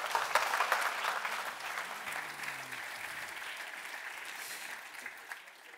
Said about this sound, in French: merci beaucoup Olivier, on vous applaudit